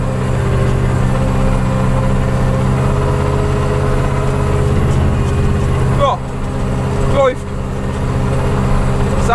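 Steady low engine drone of an IHC tractor sowing a field, running continuously and fairly loud throughout, with a couple of brief higher squeaks or rattles near the end.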